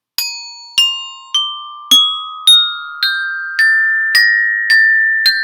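Eight bell-like metallic tones struck one at a time with an even beat, each a bit higher in pitch as the scale rises, every note ringing on and fading into the next, clear and close with no talking.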